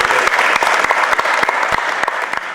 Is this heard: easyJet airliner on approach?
no